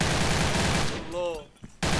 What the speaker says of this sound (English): he's shooting the wall on the base